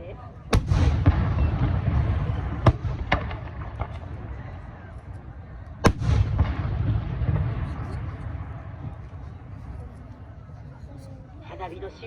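Fireworks burst at a summer Peron fireworks festival in Aioli, Japan, with sharp booming explosions at irregular intervals, each followed by a rolling echo. Crowd noise and a voice sit underneath.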